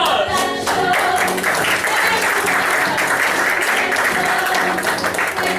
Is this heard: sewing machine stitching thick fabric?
no